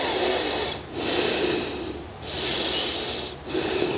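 Slow, deep yoga breaths during a forward fold, each long airy exhale and inhale rising and falling close to the ear, about three full cycles with no talking.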